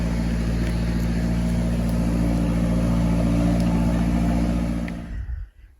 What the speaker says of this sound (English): Now we're skidding these logs out of the bush.